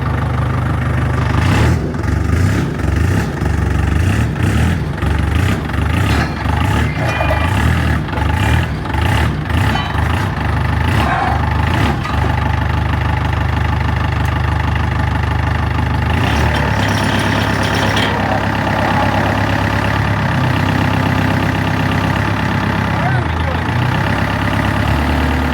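A big truck engine runs and idles with a low, steady rumble, punctuated early on by a series of sharp knocks or clanks, then settling into an even idle with a brief rev.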